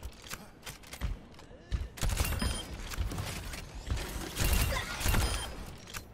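Baptiste fires his gun in Overwatch, rapid bursts of gameplay gunfire with clanking mechanical effects, loud and dense, mixed with other match sounds.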